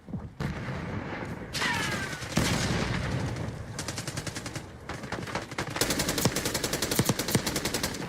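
Rapid bursts of gunfire and sharp shots from the 2009 video game Modern Warfare 2, dense and loud for the whole stretch, with repeated rattling volleys toward the end.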